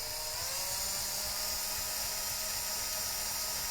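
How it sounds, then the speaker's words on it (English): A small drill turns steadily as it slowly bores a hole for a miniature Halloween book-nook build, giving a continuous high whine with a faint hum beneath, close and alone without talk. "You're letting the drill do the work, not you. You want the drill to make the hole."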